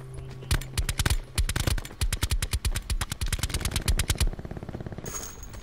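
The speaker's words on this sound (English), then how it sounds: "I got someone shooting at me right now" Rapid automatic gunfire in Call of Duty Black Ops 4 Blackout, a loud, dense burst of repeated shots with a steady machine-gun rhythm lasting several seconds, then tailing off into quieter game ambience.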